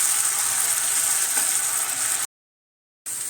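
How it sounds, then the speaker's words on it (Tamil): Ground tomato paste sautéing in a pan for village-style prawn curry, a continuous close sizzle that cuts out briefly to silence before resuming. "இப்போ தக்காளி அரைச்சி வச்சு தக்காளி போட்டுப்போம். நல்லா கொஞ்சம் வதங்கட்டும்."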